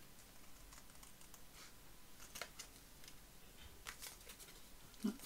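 Scissors snipping through Tim Holtz paper ephemera for collage tags, sparse quiet cuts and small papery rustles close by over a low background hiss, with a sharper snip near the end.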